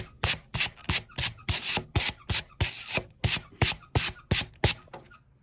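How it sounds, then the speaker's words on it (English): A tool rakes back and forth over wood to rough up and weather its surface for a Halloween haunted house facade, making a dozen or so loud, close, evenly spaced scraping strokes that stop near the end. "However much you want to rake back and forth on this thing to create detail."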